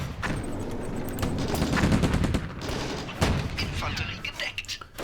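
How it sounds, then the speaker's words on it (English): Continuous anti-aircraft gunfire in a Stalingrad war game, dense rapid bursts and booming shots layered over a busy battlefield, loud and sustained with brief dips, mixed with background voices. "Look at that, just continuous fire."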